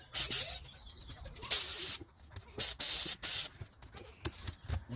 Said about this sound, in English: We'll spray. Try to spray the clean here.